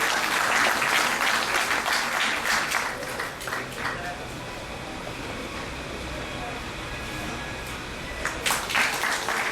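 A crowd at a seminar gathering applauds loudly to welcome a visiting minister, steady clapping that fades partway through, then swells again briefly near the end, with background murmur and voices underneath.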